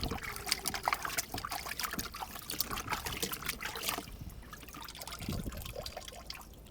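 Water trickles and splashes steadily while a bird's feathers are rinsed during preparation for a 4-H showmanship class, a continuous close wet patter that eases slightly in the last few seconds.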